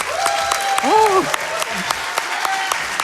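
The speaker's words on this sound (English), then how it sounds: "Can we get one more round of applause" Applause from the crowd at a speedrunning marathon event ripples in sparse, scattered claps while a voice briefly exclaims over it, the clapping fairly distant and thin.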